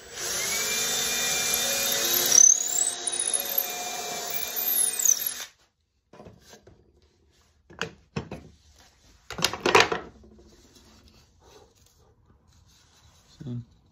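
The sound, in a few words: power drill drilling pilot holes in wood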